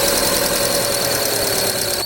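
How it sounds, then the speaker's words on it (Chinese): A car engine runs steadily at close range while its drive belt squeals at ignition start, a thin sustained whine layered over the continuous mid-pitched engine rumble throughout. "打火的时候叽叽响"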